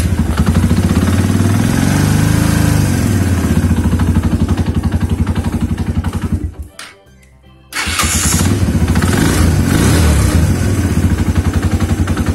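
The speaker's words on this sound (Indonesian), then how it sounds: "motor sudah bisa menyala dengan baik" A motorcycle engine runs loud and close, idling with a steady throb, cuts out briefly for about a second, then revs back up and keeps running.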